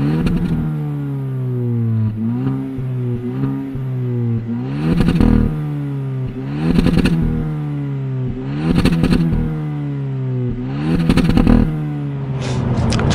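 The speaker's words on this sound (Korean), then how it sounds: "한번 외부에서 들려오는 배기음도 한번 확인을 해보죠." A Hyundai Avante N Line exhaust heard from outside the car, rising in repeated revving pulls with a throaty growl, each burst followed by a drop back toward idle and crackling pops, loud and close.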